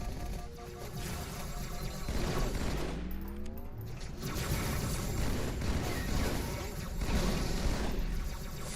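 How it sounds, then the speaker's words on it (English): Halo 2 combat crackles with rapid plasma rifle fire and bursts of weapon noise, a sweeping whoosh rising midway, the barrage staying loud and continuous to the end. "Did my noob combo hit that frag grenade, or did the plasma rifle shoot it?"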